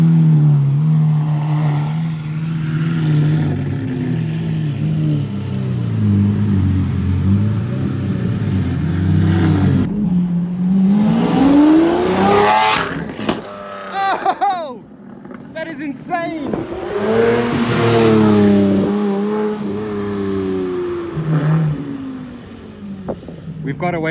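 Two V12 Lamborghini cars rev and drive past at a Cape 1000 registration event, loud engine roars swelling and falling with rising pitch sweeps as they accelerate, with wind buffeting and people talking over them.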